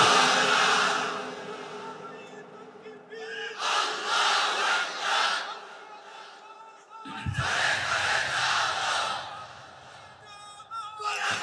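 A large crowd roars the religious chant Allahu Akbar back at a preacher, loud massed shouting in two surges separated by a brief lull, echoing through an open-air gathering.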